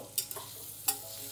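Onions fry in a pan for paneer peas biryani, a soft steady sizzle broken by two or three brief scraping stirs, fairly quiet.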